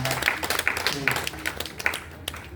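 Audience applause at a Hindi-language public event, brisk scattered clapping that builds under a speaking voice amplified over a PA.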